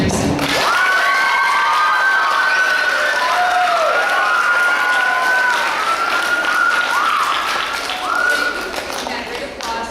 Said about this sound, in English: And great applause to the winners of the Youth Naturalist Watershed Heroes Award.